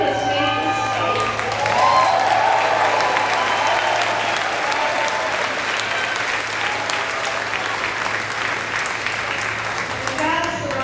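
A high school graduation crowd gives an athlete a round of applause, a big sustained burst of clapping with some cheering that swells early, holds for about ten seconds, and a voice briefly audible at the edges.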